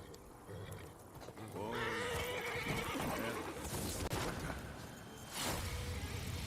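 Roach, Geralt's horse in The Witcher 3, lets out a loud, wavering whinny with a few hoof clops, then a second sharp burst of sound near the end; a faint voice murmurs underneath.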